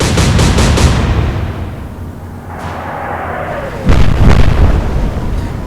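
Naval guns in the Atlantic Fleet naval warfare game fire a loud booming salvo, then a long rumbling roll as the shells fly, followed by a second heavy burst of impacts.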